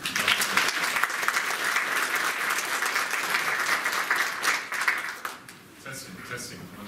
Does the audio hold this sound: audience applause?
yes